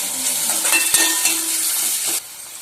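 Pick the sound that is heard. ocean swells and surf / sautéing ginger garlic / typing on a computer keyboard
sautéing ginger garlic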